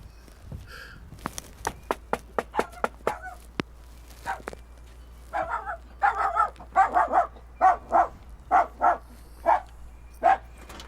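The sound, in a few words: dog barking in a video game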